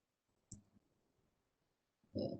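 Two sharp clicks from a computer mouse, one faint and one louder about a second and a half later, set against near silence.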